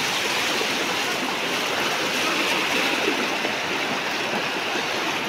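Floodwater in Hailakandi during the 2025 flood rushes past submerged houses, a steady, loud, broadband roar of flowing water with no pauses and no voices.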